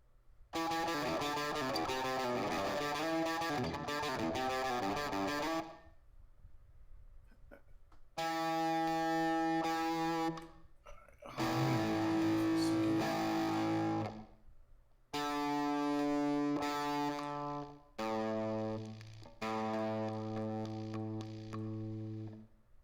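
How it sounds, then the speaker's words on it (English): An electric guitar with a single-coil pickup plays through distortion in several strummed bursts separated by short silences, loud and close with no talking. "and now for same song, but with a single coil, like it's actually played"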